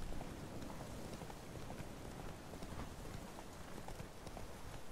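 Rapid, continuous hoofbeats of a galloping horse in The Witcher III: Wild Hunt, a steady patter running throughout at moderate loudness, with no voices.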